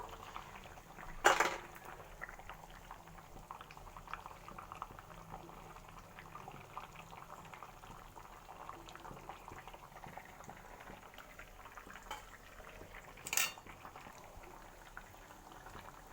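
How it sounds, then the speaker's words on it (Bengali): Gravy with prawns boils in a pot, a steady low bubbling simmer running throughout, with two brief louder clinks or splashes near the start and again later; no one speaks. "তো দেখো ঝোলটা খুব সুন্দর ফুটে গিয়েছে।"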